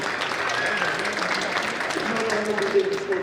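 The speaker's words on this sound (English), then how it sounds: "give a round of applause to all these creators of magic" An audience at a food delivery summit panel applauds in a steady, dense wash of clapping throughout, moderately loud, with a voice speaking over it.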